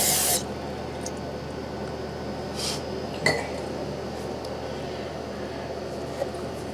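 A single short, loud hiss of cleaner sprayed inside an oil burner's filter housing during a yearly service, followed by quiet ambience with a few faint clinks of metal.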